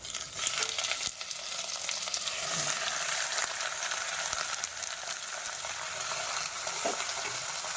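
Mutton pieces hitting hot oil with fried onion and garlic in a pan, giving a loud, steady, broadband sizzle that carries on unbroken, with faint stirring scrapes in the background.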